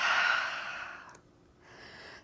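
Breathing during a yoga practice, a close, soft sigh-like exhale followed by a short pause and a quieter second breath.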